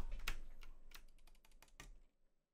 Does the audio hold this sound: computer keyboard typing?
yes